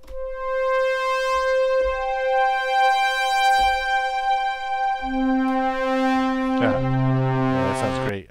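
Vangelis-style synthesizer voice built in SuperCollider with reverb turned up: sustained bright harmonic tones held one after another, shifting to a lower note and then a swelling chord, with long reverberant tails, loud and alone.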